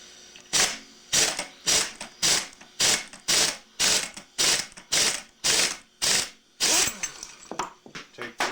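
An impact wrench works on a Parilla High Cam kart engine during teardown, firing about a dozen loud, close hammering bursts in a steady rhythm with brief gaps between them.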